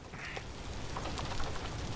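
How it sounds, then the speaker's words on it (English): Chickens in the video game Vintage Story give short, clucking, quack-like calls over a steady, noisy background. "These are my chickens."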